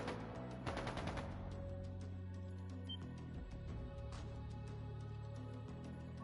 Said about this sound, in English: That sounded like gunfire.